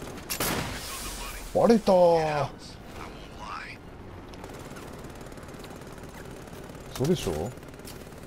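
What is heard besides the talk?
aircraft minigun fire in the video game Batman: Arkham Knight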